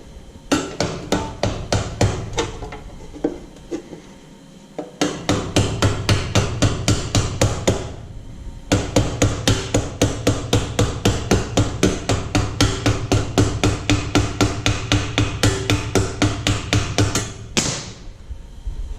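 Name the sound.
hammering a rivet on an anvil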